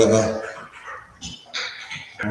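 A dog gives a few quick barks and yips across a couple of seconds, near and moderately loud, with voices mixed in.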